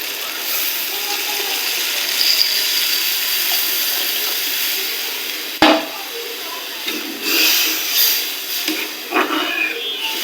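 Water poured into a pan of dried fish (shutki) curry, a steady running splash with a sudden clatter midway, then sizzling and bubbling in uneven spurts.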